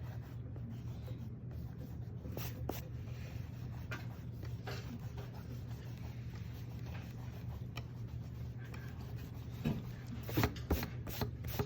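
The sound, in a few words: pencil lines being erased on paper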